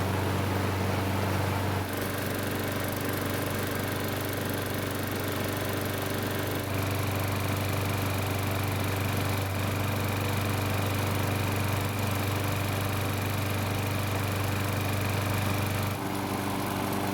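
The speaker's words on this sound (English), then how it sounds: "So the engine starts and runs, but it seems to be smoking quite a bit." A Craftsman lawn mower engine runs steadily at a constant pitch and sounds close, smoking heavily, with no voices over it.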